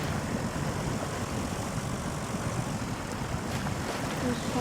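A tractor in SnowRunner ploughs through deep mud with a steady, dense engine drone that holds without a break while someone talks over it.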